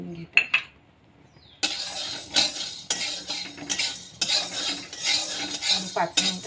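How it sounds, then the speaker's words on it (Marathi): Sabudana is being roasted in a kadhai, with repeated scraping and clinking strokes of a metal spoon against the pan in uneven bursts, loud and close. "साबुदाणा कढईमध्ये घालून घेते"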